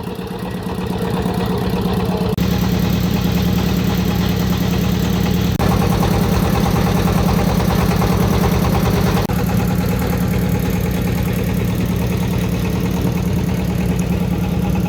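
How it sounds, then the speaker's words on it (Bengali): A steady, loud trawler boat engine chugs without a break on the Meghna river, a deep rumbling drone with a constant vibrating throb. "এই যে আমরা ট্রলার যোগে এখান থেকে যাচ্ছি"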